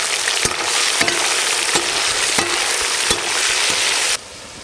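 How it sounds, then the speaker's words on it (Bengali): Onions fry in a pan during an outdoor mutton cook in a forest setting, a steady loud sizzle with periodic stirring scrapes, the hiss dropping off sharply near the end. "পেঁয়াজ ভাজা কমপ্লিট"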